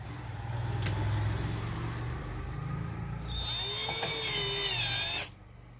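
Power drill driving the first screw during an assembly job, a close whirring motor run lasting several seconds with a higher whine as it speeds up, then stopping abruptly.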